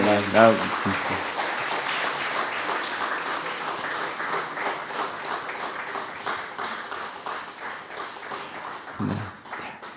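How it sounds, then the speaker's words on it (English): Broad, steady applause from a crowd fills the whole stretch, with a voice speaking briefly at the start and again near the end. "please give him a round of applause for being here"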